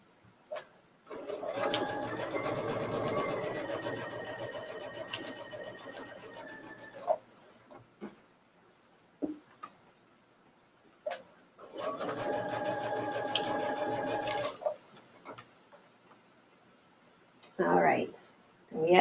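Sewing machine stitching a fabric seam with a half-inch allowance, a close mechanical whirring hum in two long runs of several seconds each, broken by quiet pauses and short clicks, with someone talking over the stitching.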